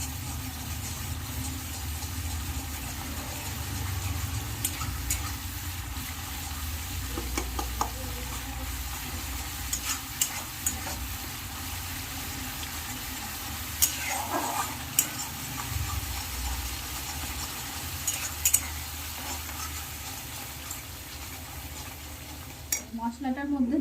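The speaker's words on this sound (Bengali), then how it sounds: "মশলাটা একটু কষতে হবে, বেশ" Spice paste fries in oil in a pan for a cabbage pakoda dish, a soft continuous sizzle with occasional stirring scrapes and a low background hum throughout.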